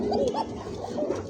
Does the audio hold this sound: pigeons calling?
yes